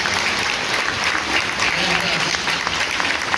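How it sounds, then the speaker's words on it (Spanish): A standing audience at a choral concert gives teachers loud, sustained applause, a thick, even wash of many hands clapping that fills the whole moment with no break. "debemos darle un fuerte aplauso a todos"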